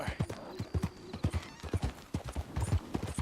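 Horse hooves clip-clopping at a steady trot in Red Dead Redemption 2, close and rhythmic, with a faint background hum and no pauses.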